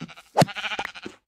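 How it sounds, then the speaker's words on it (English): A sheep in Minecraft gives a short, close bleat, one clear wavering cry alone in the game. "Sheep, food."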